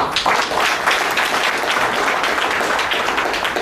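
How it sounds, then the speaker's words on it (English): Loud, dense audience applause fills the whole stretch without a break, steady and close, at a public talk honouring courageous women; no speech is heard over it. "we should give them a thundering applause"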